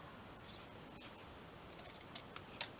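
Scissors snip through scrap paper in a few short, close cuts, the last snips louder and crisper, with no voices.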